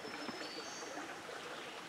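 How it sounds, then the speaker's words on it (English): Creek water running along a trail in Red River Gorge, a soft continuous trickle and gurgle heard alone at low level, steady for the whole stretch. "So I'm going to cross this creek here"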